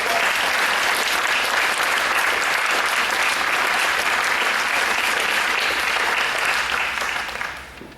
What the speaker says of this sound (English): So again, please give those veterans another round of applause.